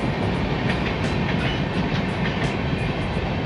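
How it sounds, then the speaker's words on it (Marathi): Chandigarh-Kochuveli Express pulling out of Kudal railway station in the rain, a close, loud, steady rumble with rhythmic clickety-clack of wheels over rail joints. "ही चंदीगड कोचुवली एक्सप्रेस आता रवाना झाली आहे"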